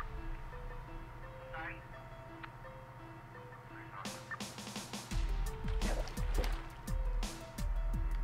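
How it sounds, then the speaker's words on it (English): Fishing bobber splashes in Minecraft Skyblock on PS3, with several short watery plops and drips repeating near and loud over steady background game music, with a voice talking at one point. "As soon as you hear that splash, you gotta hit it."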